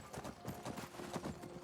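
Horse hooves clop in a quick, rhythmic run of muffled steps in the Skyrim video game, faint and steady throughout.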